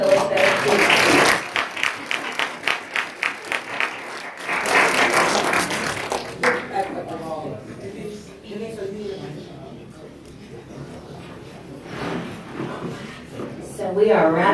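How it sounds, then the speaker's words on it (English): An audience at a 2020 Black History celebration reception applauds Ms. Phyllis Bennett: a brief burst of clapping, then a short run of distinct individual claps that fades as a speaker's voice takes over. "Let's give a warm round of applause for Ms. Phyllis Bennett."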